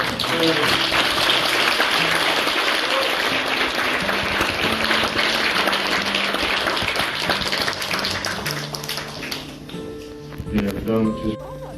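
Congregation applause for a retiring elder at a Korean church retirement ceremony, a broad sustained clapping that thins out near the end as voices and other sounds take over.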